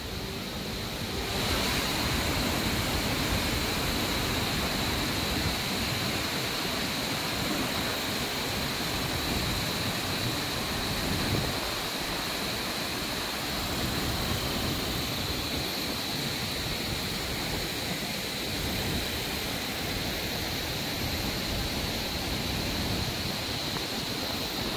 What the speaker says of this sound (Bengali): ওয়াটারফল দেখেছো?